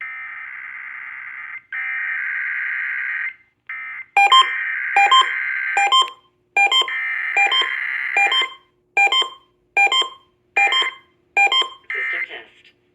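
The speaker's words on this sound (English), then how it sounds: "The following is a test of the emergency alert system." Emergency Alert System test tones play loud and alone: long steady tones at first, then a rapid series of short, evenly spaced beeping bursts.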